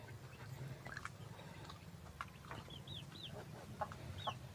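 Free-range backyard chickens on a small farm, with rooster calls and clucking rising over a low steady background hum, several short bird calls scattered through the moment, no one talking.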